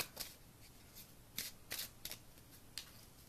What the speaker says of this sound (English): Just gonna mix up the cards